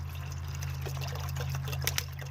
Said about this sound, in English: I better hurry up and put some water on that before it dries out there